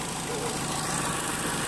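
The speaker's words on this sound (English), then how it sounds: "the engine sounds really good. It's idling" A 2002 Dodge Neon ES engine idles steadily, a close, even mid-pitched hum with light vibration and no revving.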